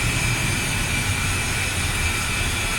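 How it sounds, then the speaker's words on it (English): Twin jet engines of an A-10C Warthog in the DCS flight simulator run at a steady, loud, close roar with a constant high whine and no change in pitch. "With both engines now running and powering the left and right DC generators"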